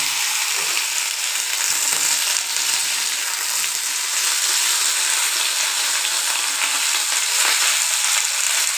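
Washed green beans fry in hot oil with black cumin seeds, giving a loud, dense, unbroken sizzle close up with faint stirring scrapes and no voices.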